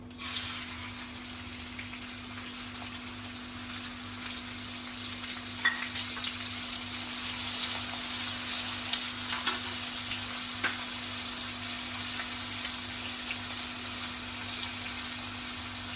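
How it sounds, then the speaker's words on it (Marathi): Onion sizzling in hot oil in a home kitchen pan while a festival meal is cooked, a steady, close, bright crackle holding at an even level throughout with a constant low hum beneath and no talk. "तेल गरम झालेलं आहे कांदा घालायचा आहे"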